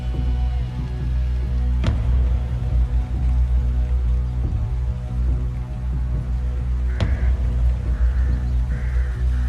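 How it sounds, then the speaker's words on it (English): Crows caw a few times in the distance over a steady rumble of rain or running water, heard in the background of a song. "Crows in the background"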